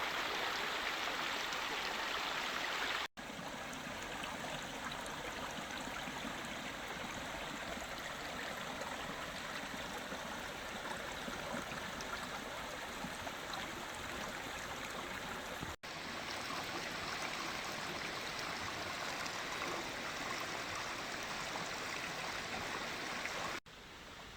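A mountain valley stream at Wangbang Valley near Dongducheon, where two branches meet, rushes and splashes in a steady, dense wash of water, loud and continuous without pause.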